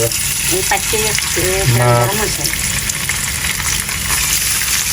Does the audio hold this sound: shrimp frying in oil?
yes